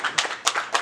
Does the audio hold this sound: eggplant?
no